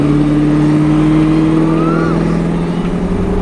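Chevrolet C7 Corvette prepared for Street GT class racing, roughly 400 horsepower, pulling hard on track with a loud, steady engine drone and a rising rev sweep near the middle, captured close from inside the car.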